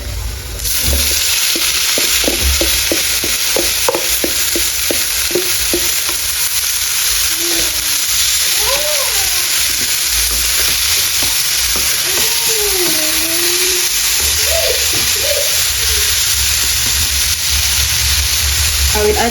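Ampalaya (bitter gourd) dropped into hot oil and frying in a home kitchen in Kenya, a loud constant sizzle with rapid clicking and scraping early on, while a voice talks over it.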